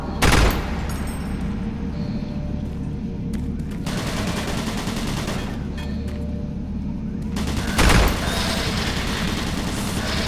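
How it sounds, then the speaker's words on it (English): Automated turret guns fire in the VR edition of the first-person shooter Doom 3, a loud, steady barrage of rapid gunfire with two heavier blasts standing out near the start and again later. "Warning. Automated turret guns online."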